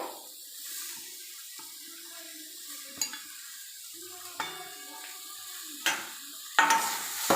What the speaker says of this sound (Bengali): এবার আমি আলুগুলোকে দিয়ে দেবো কড়ার উপরে।